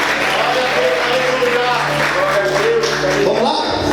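A church congregation applauds with steady crowd clapping beneath a sustained musical tone, and a voice speaks over it near the end.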